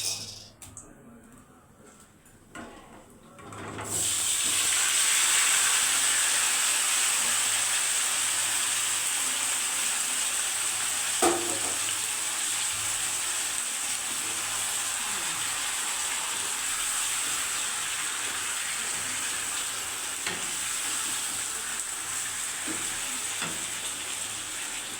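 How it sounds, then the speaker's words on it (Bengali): Marinated chicken with apple goes into a pan of hot oil and cumin, a quiet start giving way to a sudden loud sizzle that settles into steady close frying with occasional stirring clicks. "এইবারে আমি চিকেনগুলো ঢেলে দেবো।"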